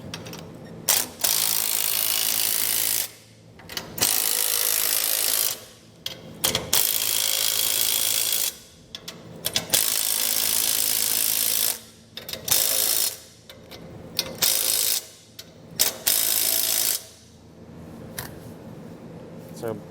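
A hand ratchet snugs down Hellwig Load Pro 25 helper spring hardware on a 2017 Chevrolet Silverado, in repeated bursts of rapid close clicking separated by short pauses.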